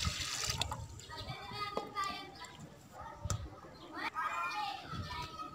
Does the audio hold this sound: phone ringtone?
no